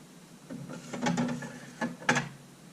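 A Sony A7R camera shutter clicks and whirs mechanically, a few quick ratcheting bursts close up with quiet gaps between.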